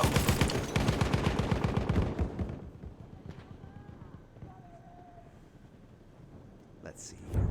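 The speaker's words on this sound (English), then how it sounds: "there's so much gunfire" Rapid bursts of video game gunfire ring out for a couple of seconds, then fade into quieter background noise before another sharp burst at the end.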